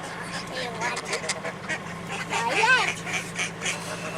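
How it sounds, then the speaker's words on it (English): Ducks and geese crowd around people feeding them outdoors, with quacks and honks scattered through the scene, one louder call rising clearly near the end, while a person talks over the birds. "Look at all the ducks that came."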